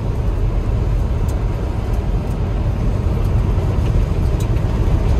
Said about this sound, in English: the engine sounds real good